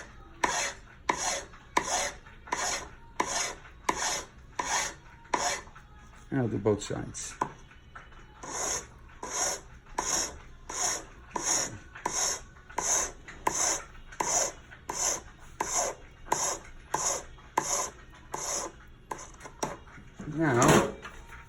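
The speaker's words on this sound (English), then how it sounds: "Now, that's a flat sanding disc." A gold ring is rubbed on a flat sanding disc, giving a long run of regular rasping strokes, each a short scratchy swipe, repeated evenly and close up. A voice speaks briefly partway through.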